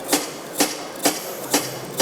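A stainless steel chef's knife saws back and forth through a carrot on a granite composite kitchen sink surface, giving five evenly spaced, crisp scraping strokes about half a second apart, close and fairly loud.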